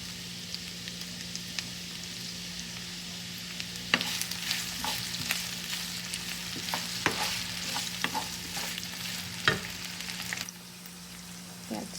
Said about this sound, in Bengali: শুকনা মরিচ, তেলটা গরম না হওয়ার আগেই দিয়ে দিব